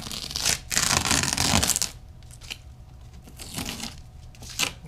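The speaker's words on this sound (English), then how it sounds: "First things first is getting this duct tape off" Duct tape is peeled and torn off a part of a Mercedes R129 during interior detailing, with loud ripping bursts at the start, then quieter scratchy peeling and rubbing close by.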